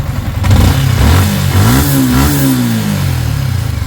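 A Yamaha Sniper 155 motorcycle engine, freshly fitted with new cams and rocker arms, revs up close, rising in pitch and then settling back to a rough, steady run.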